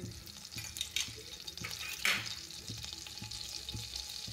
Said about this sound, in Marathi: आपण ते आधी तेल टाकलं मग नंतर बटर टाकलेले आहे